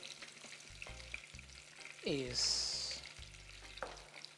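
Onion and spices frying in hot oil, a steady sizzle with stirring scrapes and a brief louder hiss flaring midway, close and continuous.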